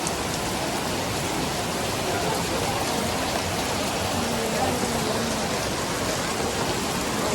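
Steady rain pours down in a dense, unbroken hiss, loud and close throughout with no pauses.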